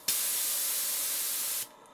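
A small model steam engine's safety valve blows off at 50 psi, a loud steady hiss that starts abruptly, holds for about a second and a half, then cuts off sharply, alone without talk.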